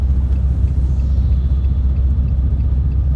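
A car rattles from a loose part near the shock absorber, heard as a steady close, loud low rumble of the moving vehicle with no talking.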